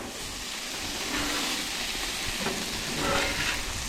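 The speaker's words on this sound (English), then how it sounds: "You can hear it sizzle." Steady sizzling from raw potatoes on a hot Blackstone griddle, with a broad hiss and a breezy rush of wind outdoors, fairly loud throughout.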